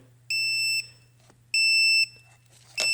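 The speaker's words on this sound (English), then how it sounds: "I'm going to cause a short circuit so you can kind of hear what it would sound like if it would detect one." A DBPOWER 2000A portable car jump starter sounds its short-circuit warning: three loud, high-pitched electronic beeps spaced about a second apart, each a steady tone, heard alone.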